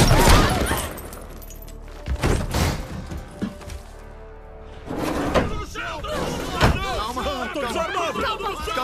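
Gunfire erupts in a dubbed action film as sharp, loud shot bursts punctuate tense dialogue, with a brief lull before more shots and shouting voices.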